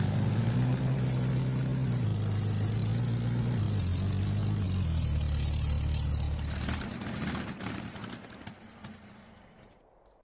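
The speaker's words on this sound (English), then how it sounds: "It requires a super loud fan to be mounted on the hood to be able to cool the machine fast enough for it to actually run." A loud hood-mounted cooling fan on a video game vehicle gives off a heavy, steady droning roar that shifts in character partway through, then thins and tapers off toward the end.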